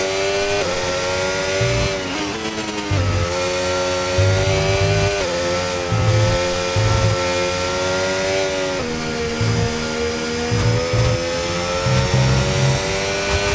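Formula 1 cars racing at the Mexico circuit in the F1 25 video game, with high-pitched engines whining and shifting up and down continuously, several cars overlapping, loud throughout with no talk.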